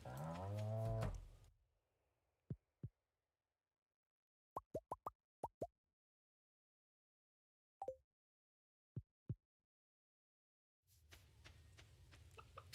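Cows mooing in a farming video game: several short, clean low calls spaced apart in near silence, a couple grouped in quick runs, with game ambience before and after.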